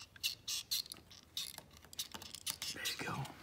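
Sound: cutting fabric off a lamb's leg cast

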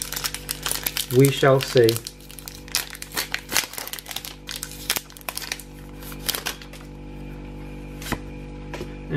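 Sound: Pokémon Fates Collide booster pack being opened

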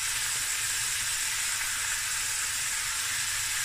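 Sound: garlic frying in a pan

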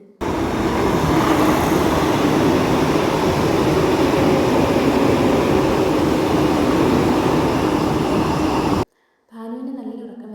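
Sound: Vande Bharat express train at station

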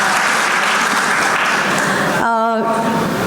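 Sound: audience applause

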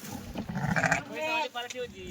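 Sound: lambs bleating

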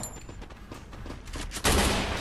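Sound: gunfire in Free Fire video game

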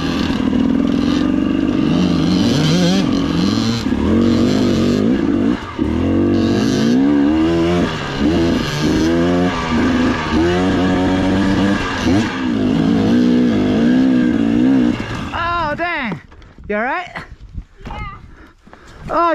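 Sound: dirt bike motorcycle riding up in the mountains

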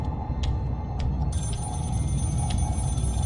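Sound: telephone ringing in Scream video game demo

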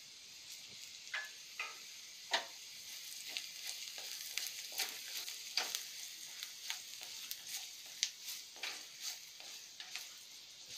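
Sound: spices frying and being stirred in a pan

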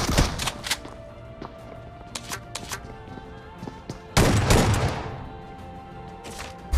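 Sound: shotgun gunfire in video game (BGMI/PUBG)

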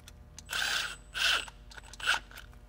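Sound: tightening hose clamps on a coolant hose

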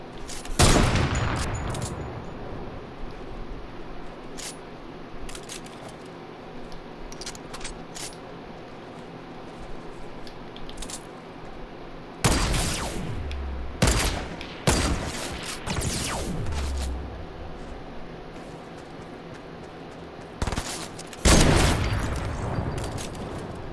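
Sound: shotgun and gunfire in the video game Fortnite

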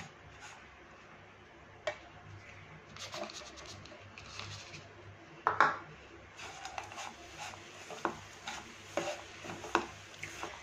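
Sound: stirring roasted flour with jaggery in a pan

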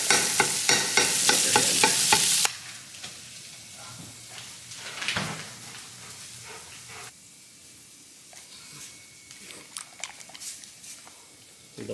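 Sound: food sizzling as it cooks in a pan

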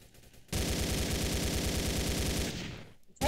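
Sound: pistol gunshots in Roblox video game

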